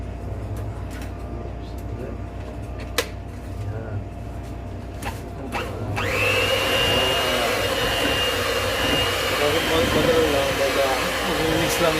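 Blender switching on partway through to mix bubble waffle batter ingredients, a loud steady whir that holds to the end, preceded by quieter kitchen handling clatter and faint talk.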